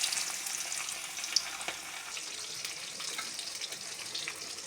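Boiled jackfruit pieces hit a hot pan with bay leaf for a vegetarian jackfruit curry, giving a steady, fairly loud sizzle and crackle with a few sharp pops and faint stirring scrapes, no talking.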